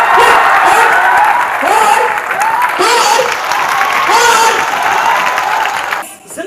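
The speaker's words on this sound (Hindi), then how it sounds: "मैं चाहूंगा एक बार आप जितने भी यहाँ पे अतिथिगण बैठे उनके लिए क्यों ना तालियां बजा लीजिए।" An audience at a motivational lecture gives the seated guests a loud, sustained round of applause, many hands clapping in a thick continuous roar with some crowd noise mixed in, before it fades out briefly at the end.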